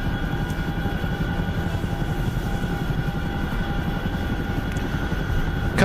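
A Chinook helicopter in a video game makes a continuous, even rotor and engine drone throughout, fairly loud and close, with no voices over it.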